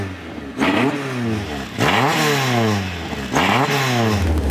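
A Toyota AE86 with a 4A-G four-cylinder engine built for street use, heard close up as it is revved hard three times, each surge climbing sharply in pitch before dropping back, over a raspy idle.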